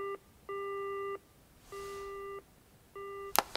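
A telephone hang-up tone pulses in Yakuza Kiwami 2: three or four steady electronic beeps at even intervals, moderately loud, ending with a sharp click.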